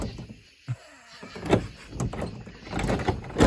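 A shed door is pushed shut and a cheap lock fastened on it, giving a few close knocks, thumps and metallic rattles against a quiet outdoor background.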